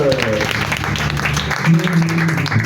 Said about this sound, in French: On acclame encore le Seigneur.